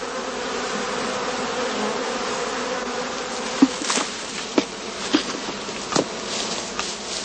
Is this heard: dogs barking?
no